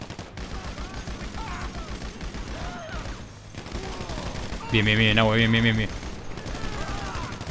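Gunfire in the game GTA V, a steady patter of shots running under a man's speech, with a louder synthetic tonal sweep cutting in briefly midway.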